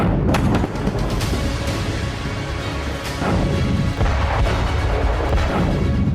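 Heavy, continuous rumbling blasts and booms from explosions in Crimea, loud and dense, with sharp cracks punctuating the roar throughout.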